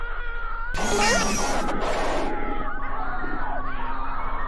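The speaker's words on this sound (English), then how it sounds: "And the freaking scream" A sudden loud, harsh scream erupts in a Sunday Night Mouse.AVI video game cutscene, lasting about a second before trailing into distorted, shrieking, cat-like wails over music.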